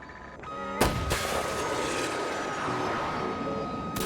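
Military jet in Battlefield 2042 roaring past overhead with a sudden loud blast and broad rumble of engine and explosions, steady and close, with no talk.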